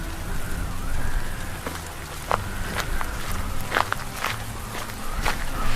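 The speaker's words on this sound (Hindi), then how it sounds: "तेज बारिश और सर्द हवाओं के बीच" Heavy rain with cold wind: a steady, loud wash of rainfall pours over the whole stretch, with scattered sharper drops and impacts standing out from the constant hiss.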